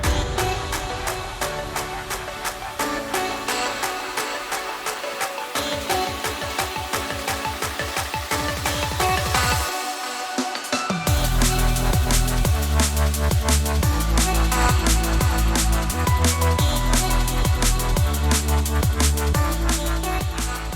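A liquid drum and bass track made in FL Studio plays with dense, loud drums, bass and melodic layers. A sparser, filtered passage builds and drops briefly into silence before the full mix hits harder.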